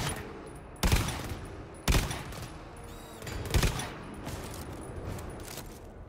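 A creature in the GTFO video game shoots spores in three sharp, loud bursts spaced about a second apart, with a softer fourth pop, over a dim, rumbling game ambience.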